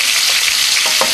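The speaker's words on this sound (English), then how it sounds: "We're adding 3 minced shallots" Three minced shallots frying in a pan for braised tarragon chicken, a loud steady close sizzle with a few soft stirring scrapes and no talking.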